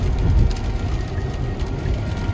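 Steady rain falling around a Tesla, a dense continuous wash of low rumble and patter with no voices, heavier for the first half second and then holding even.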